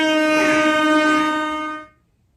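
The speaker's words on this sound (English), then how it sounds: "I gotta learn your air horns" A loud, blaring horn blast holds steady for nearly two seconds, then cuts off abruptly into silence.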